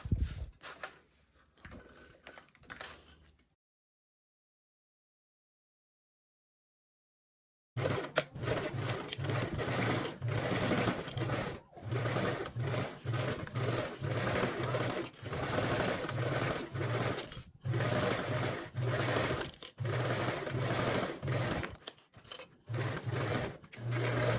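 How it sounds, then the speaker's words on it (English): A sewing machine stitches a quarter-inch seam around the outside of a fabric piece, a close, continuous rapid mechanical whirr with brief pauses, following a short burst of handling noise and several seconds of silence. "go around the outside and sew with a 1/4 seam allowance"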